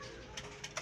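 Racing pigeons coo softly and briefly, a faint murmur of low bird calls with a couple of small swells.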